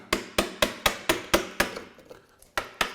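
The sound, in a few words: chisel chopping out a wood dado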